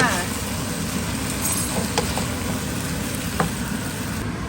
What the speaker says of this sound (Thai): ทอดค่ะ